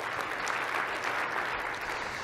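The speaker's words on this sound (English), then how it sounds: "Let's give him a round of applause." A health policy forum audience applauds, a dense, even wash of many hands clapping at moderate volume in a hall, continuing steadily without voices.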